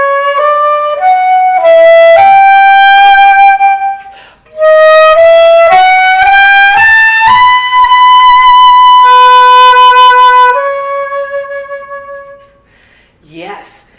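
A solo instrument plays a lyrical phrase from Massenet's Meditation with sustained, connected notes, pausing once then continuing smoothly to a long held ending, followed by a brief quiet sound.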